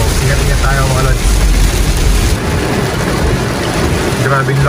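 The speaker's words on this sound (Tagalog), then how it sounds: "Grabing lakas ng ulan mga lods." Heavy rain drums steadily and loudly on a moving vehicle during a drive with very poor visibility, under constant road rumble.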